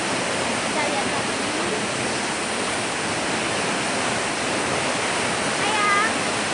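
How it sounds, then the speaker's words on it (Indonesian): Putuk Truno waterfall pours with a loud, steady roar of falling water that fills the whole scene without a break. "namanya air terjun Putut"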